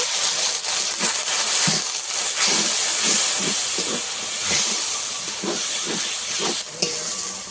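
Water poured into a frying spice masala for a pomfret curry sets off a loud, steady hiss and sizzle close by, with faint clinks of a spoon, no voices.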